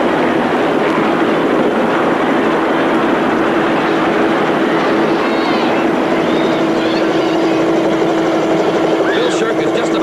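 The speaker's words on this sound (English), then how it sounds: "when the helicopter reaches 200 feet" Helicopter rotor drone from a 1979 television stunt broadcast, a loud steady hum running the whole time beneath a broadcaster's narration.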